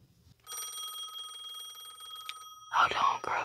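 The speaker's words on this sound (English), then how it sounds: "Give me 1 minute. My phone ringing, okay?" A telephone rings close by with a steady electronic trill, and then a person starts speaking over the end of the ring.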